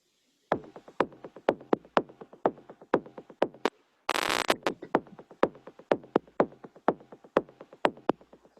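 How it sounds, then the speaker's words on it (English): A bass line built from pitched kick drums on an Ableton drum synth, steady rapid thumps in a repeating rhythm, with a brief noisy burst midway, loud and alone without talk. "above that there is a bass line made out of kick drums"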